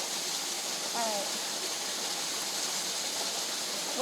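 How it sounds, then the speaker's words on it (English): Khlong Narai Waterfall in Namtok Phlio National Park pours in a steady, dense hiss of falling water that holds evenly throughout, with a faint bird call briefly rising above it near the start. "Let's check out some beautiful waterfall footage."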